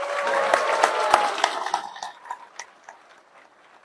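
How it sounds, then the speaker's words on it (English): Brief applause from an audience at an event with Rahul Gandhi in San Francisco, starting with a few loud claps over a murmuring crowd and thinning to scattered claps within a few seconds. "Don't you deserve an applause?"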